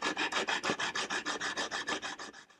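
A wooden chair back slat is hand sanded with 150 grit sandpaper, about fifteen even rasping strokes in a quick steady rhythm, close and clear with no talk.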